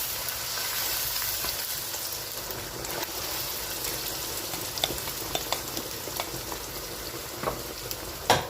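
Tomato goes into a pot of assorted meat stew and fries, a dense close sizzle with occasional stirring clicks and scrapes, no talk.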